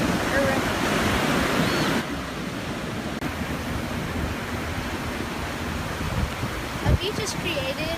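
Waves wash continuously onto a sandy beach shoreline, a steady broadband roar of surf that is louder for the first two seconds, with brief knocks near the end.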